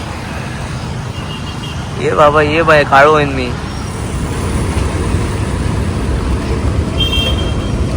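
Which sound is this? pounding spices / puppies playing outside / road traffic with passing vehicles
road traffic with passing vehicles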